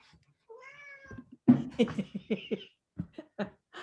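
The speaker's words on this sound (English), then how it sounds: "I love cat sounds." A cat named Merlin meows indoors, one drawn-out meow followed by a burst of short chirpy sounds and breathy noises, close and fairly quiet.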